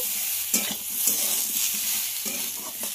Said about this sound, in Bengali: সমস্ত কিছুকে খুব ভালো করে কষিয়ে নেব